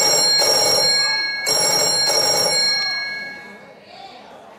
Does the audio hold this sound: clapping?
no